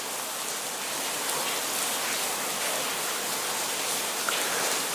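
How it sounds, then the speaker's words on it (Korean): Steady autumn rain falls continuously on a tiled roof, a dense even hiss throughout with no voices. "이 가을에 저렇게 비가 오는"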